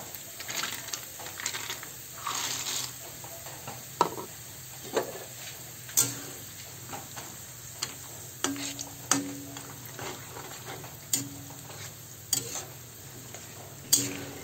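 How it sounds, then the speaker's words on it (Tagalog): Peanuts frying with light-brown garlic, stirred in the pan: a soft sizzle runs throughout while sharp clinks and scrapes from the stirring utensil come at a steady beat, every second or so, close and fairly loud. "Kailangan nating haluin mabuti ang ating piniprito kasi pag hindi, masusunog ang ating pinipritong mani."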